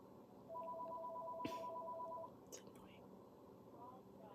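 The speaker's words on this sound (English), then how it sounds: "Why does that phone keep ringing?" A steady electronic phone ring tone sounds once for about two seconds, fairly faint beneath a murmur of nearby talk.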